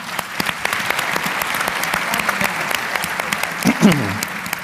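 A town hall crowd gathered on voting rights applauds to welcome lawmakers, brisk continuous clapping with a voice or two briefly audible near the end.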